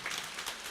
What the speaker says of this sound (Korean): 여러분들 힘내라고 다시 한번 박수 쳐주시기 바랍니다.